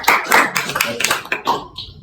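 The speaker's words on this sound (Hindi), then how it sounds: "एक बार तालियां बजा सकते हैं इन लोगों के लिए जिन्होंने बोला" A room full of listeners at an open exam-preparation session applauds the speakers with a dense burst of scattered hand claps, loud and close, tapering off after about two seconds.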